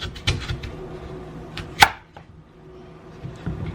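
A knife cuts lengthwise through a raw sweet potato on a cutting board, giving a few soft cutting strokes and one sharp close knock against the board, fairly quiet with no voices.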